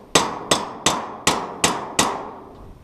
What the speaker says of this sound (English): cut through the end of the molding there, chisel it off.